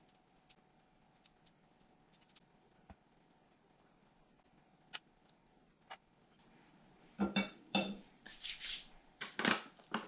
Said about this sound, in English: Just press down with the tines and slide the fork out.